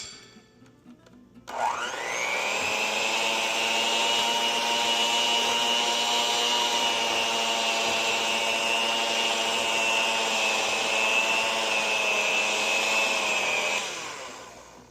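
Electric mixer beating chocolate chip cookie dough, starting up abruptly and holding a loud, steady motor whine for about twelve seconds before winding down, close and without talk.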